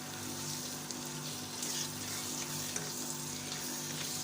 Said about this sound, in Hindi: 1 से आध मिनट इसको फ्राई करेंगे।